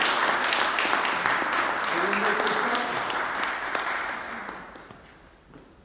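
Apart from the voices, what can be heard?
audience applause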